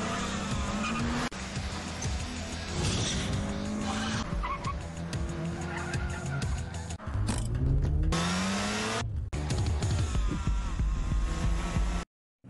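Anime racing cars from Initial D roar through a race between Kyoichi, Ryosuke and Takumi, with engines whining up and down in pitch and tires squealing loudly and continuously until an abrupt cut near the end.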